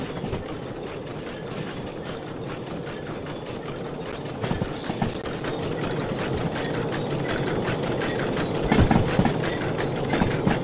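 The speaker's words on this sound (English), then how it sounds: "Can hear the engine speeding up here." A locomotive engine in the Derail Valley train simulator picks up speed on a downhill grade, a steady loud mechanical rumble with rhythmic clattering that grows slightly louder toward the end.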